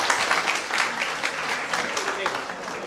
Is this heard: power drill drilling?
no